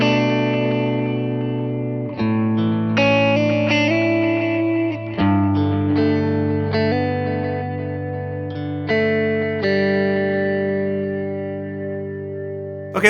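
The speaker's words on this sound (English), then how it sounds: "And we've given you a dual stereo delay." Electric guitar run through a dual stereo delay on a Line 6 Helix, a '67 Vibe Luxe tone patch, with sustained chords and picked notes trailing into wide, layered echoes; loud and continuous, with no talking.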